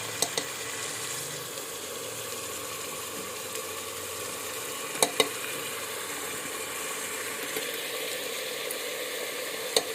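Turmeric and other dry spices fry in a pan with a steady, even sizzle close by, broken by a few brief clicks and a short utensil clatter, with no voices.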